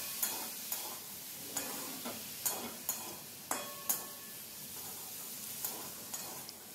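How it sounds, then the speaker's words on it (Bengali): Tomatoes and soaked chickpeas are stirred in a sizzling frying pan. About a dozen sharp spoon scrapes come at an uneven rhythm over a constant close frying hiss, with no voices. "এখন এই সমস্ত কিছু একবার ভালোভাবে নাড়াচাড়া করব"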